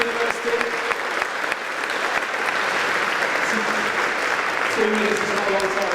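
Crowd at a news hackathon demo session applauds after a university team's prototype pitch, sustained loud clapping throughout with a few voices and faint tones mixed in.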